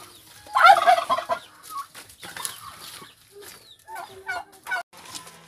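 Loud turkey gobbling up close, a rapid warbling burst followed by several shorter gobbles and clucks from nearby fowl.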